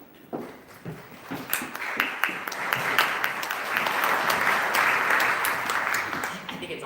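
Audience applause at a 2018 NetHope Global Summit morning session, rising from scattered claps into steady, full clapping across the room that continues to the end.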